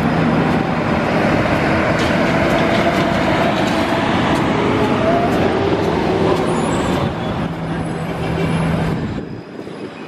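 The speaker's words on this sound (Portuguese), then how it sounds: "E aqui temos bastante ônibus elétrico também." Electric trolleybus passing through central São Paulo near Praça João Mendes and the Sé Cathedral, a steady loud rolling rumble of heavy vehicle traffic with faint rattles, fading near the end.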